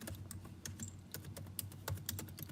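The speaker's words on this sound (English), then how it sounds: "sometimes when I type, I don't even look at the keyboard" Rapid typing on a computer keyboard, a dense run of crisp key taps close up with no talking over it.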